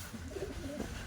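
Pigeons kept in a cage loft coo softly in low, rolling murmurs, faint and close, with no talking.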